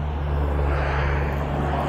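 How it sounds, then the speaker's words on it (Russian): Heavy car traffic roars along Novy Arbat, a wide avenue in Moscow, as a constant, loud low rumble with a steady engine drone and no breaks. "Шумные машины."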